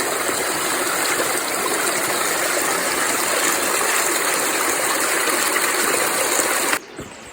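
A creek rushes steadily across a forest trail crossing, a loud, continuous broadband wash of flowing water heard up close, cutting off abruptly near the end.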